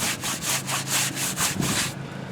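A mild brush scrubs a car wheel coated in all-purpose cleaner, making about eight steady back-and-forth rasping strokes, close and loud, with no talking.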